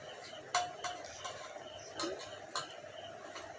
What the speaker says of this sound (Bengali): এবার দিলাম 1 বাটি চালের গুঁড়ো দিয়ে এটা সুন্দর করে নাড়তে হবে, ভালো করে নাড়তে হবে